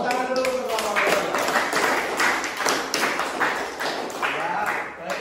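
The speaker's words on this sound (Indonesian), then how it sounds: "Tepuk tangan dulu untuk kelompok." Classroom applause for a student group after its presentation, dense clapping filling the room for about five seconds, with voices mixed in underneath.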